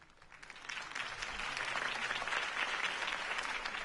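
A crowd applauds steadily, dense clapping that swells quickly and holds at full strength throughout.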